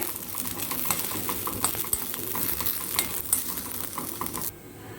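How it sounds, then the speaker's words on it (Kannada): Lemon peel sizzles in a pan while a utensil stirs and scrapes, producing quick irregular clicks over a steady frying hiss. "ಇದನ್ನಿವಾಗ ಚೆನ್ನಾಗಿ ಬಾಡಿಸ್ಕೊಳ್ಳೋಣ ಇವಾಗ ನೋಡಿ ಚೆನ್ನಾಗಿ ನಿಂಬೆ ಸಿಪ್ಪೆ"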